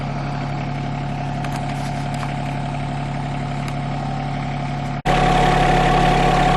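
A backhoe engine idles steadily with an even mechanical rumble, then suddenly jumps louder and harsher near the end and keeps running.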